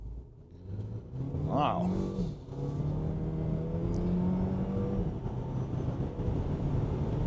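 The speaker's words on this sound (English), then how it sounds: "Let's launch again with no brake torque." A 2024 Alfa Romeo Tonale SUV launches from a standstill, its engine note climbing in steady rising sweeps as it accelerates hard from inside the cabin, with a brief exclamation near the start.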